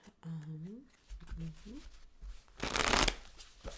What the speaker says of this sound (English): Give it a couple more shuffles and then I'll cut and we'll get started.